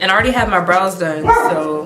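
A dog barks several times in short bursts, close by, under someone talking through a makeup tutorial.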